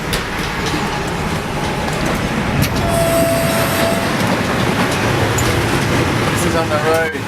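A train heading to London through countryside, heard from inside as a steady, loud rumble of wheels on rails with faint clatter, while someone talks over the noise.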